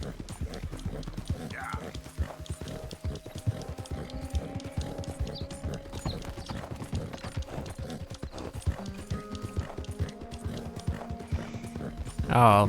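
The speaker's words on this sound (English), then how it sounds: "we just fed our horse and we are on our way now" In Red Dead Redemption 2, a horse trots onward with continuous, even clip-clop hoofbeats, close and clear, layered over soft ambient game sound throughout.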